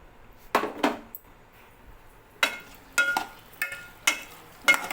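Taro root pieces tipped into a pan of softened onions land with a series of sharp clattering knocks and utensil clinks, spaced irregularly and close by, with no talk.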